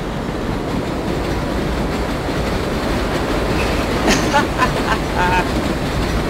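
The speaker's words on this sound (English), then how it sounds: "We can get in front of the train, and we can just take it to the next stop." AI-driven subway train in World of Subways 4 rumbles past in a steady, loud roar of wheels on rails, with a few higher squealing and clattering tones near the end, and a voice speaking over it.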